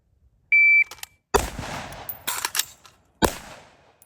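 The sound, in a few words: gunshots at targets with shot timer beep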